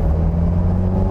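A 1967 Porsche 912 fitted with a Subaru STI engine revs in a steady, loud, close drone that holds a constant pitch with no voices over it.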